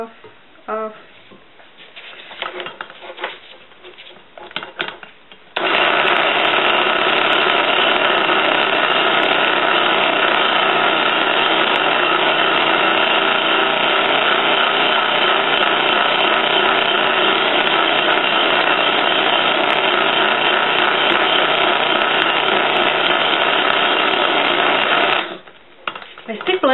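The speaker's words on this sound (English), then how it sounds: "My stick blender sounds sick. Sounds like it's dying. And that's the low speed." Electric stick blender running at low speed while mixing orange vanilla soap, a loud continuous strained whine held steady for about twenty seconds, with softer handling noises before and after.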